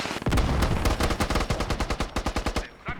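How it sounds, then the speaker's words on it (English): Rapid automatic gunfire exchange inside buildings in the military shooter game Squad, a dense loud burst of shots in quick steady rhythm that thins out toward the end, with no voices over it. "multiple trading shots in the buildings right now as DES single-handedly going down eastbound"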